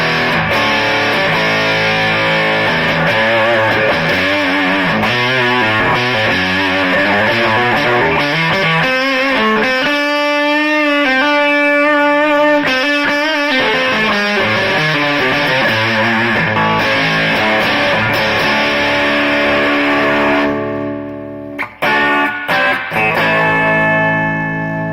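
Electric guitar played through a Peavey Classic combo amp on its normal channel, giving mellow, lightly driven classic rock tones with sustained chords and melodic runs, loud and close, before fading into brief scattered noises at the end.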